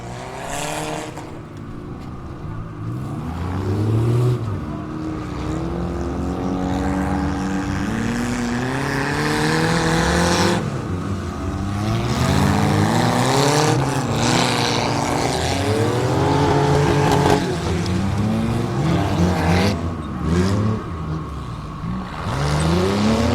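Demolition derby cars racing around an ice track in an indoor arena at a 2024 winter event in Long Prairie, Minnesota. Engines rev and rise in pitch continuously, overlapping loud roars filling the whole stretch.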